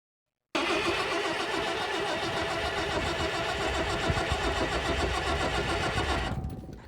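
An old Fiat Allis bulldozer, left to rot for ten years, cranks and catches, its diesel engine running loud and rough with a steady churning clatter before cutting off near the end.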